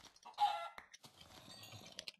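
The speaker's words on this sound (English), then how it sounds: "Let's kill this chicken." A chicken in a Minecraft-style survival game gives a few short, close clucks, the loudest near the start, followed by quieter scattered clucking and faint rustling, with no talk.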